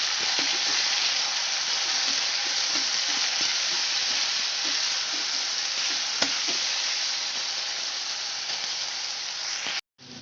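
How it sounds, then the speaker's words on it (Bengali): Potato pieces frying in hot oil, a loud, dense, continuous sizzle heard up close for about ten seconds, with a brief clatter at the very end and no speech. "এবার আলুগুলোকে আমি সুন্দর করে ভেজে নেব"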